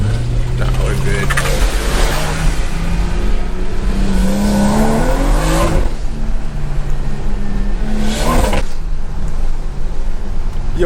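A Stage 2 tuned BMW 340i accelerates hard on a snowy road, engine droning and rising in pitch through gear changes with road and wind noise throughout, heard from inside the cabin at loud, continuous level.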